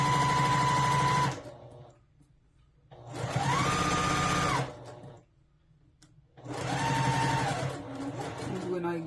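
A sewing machine stitches a fly front zipper in three sustained bursts of fast, whirring motor hum, each a few seconds long and separated by short pauses, close and clear with no talking.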